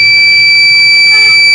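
The buzzer of a homemade fire alarm science model, built with a battery, on-off switch and transistor, gives a loud, continuous, piercing electronic tone that sounds close and steady for over a second.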